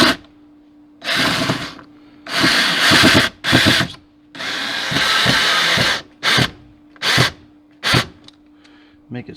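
A power drill drives a screw into a wall bracket for a retractable baby gate, with about eight loud, close bursts of whirring that start and stop irregularly, some long and some brief.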